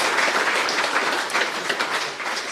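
Applause from an audience at a business presentation on venture capital, a steady, dense wash of clapping that holds at an even level throughout without any voices.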